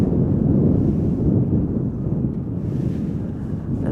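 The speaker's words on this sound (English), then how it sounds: "And a big gust of wind." A strong gust of wind buffets an outdoor microphone at a plane-spotting spot by Chicago O'Hare airport, a loud, steady low rumble and rush lasting the full span, with no voices.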